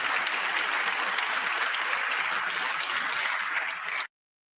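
Steady, dense applause fills a large chamber in Congress, holding at an even level for about four seconds before cutting off abruptly.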